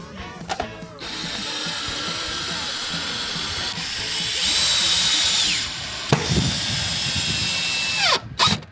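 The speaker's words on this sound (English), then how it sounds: "just some drywall screws, just to hold it in position with a pre-drilled hole" A power drill whirs steadily, rising and falling in pitch, as it drives drywall screws through pre-drilled holes on a conservatory roof replacement, with brief ratcheting clicks and short pauses between runs.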